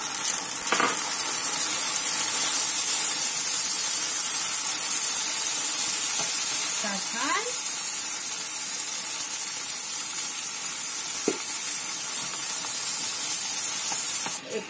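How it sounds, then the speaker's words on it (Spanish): Vegetables sizzling and frying steadily in a pan for a sofrito, with tomato about to go in, a continuous close hiss with a few brief clinks of stirring. "Está dorando la verdura, vamos a echar el tomate."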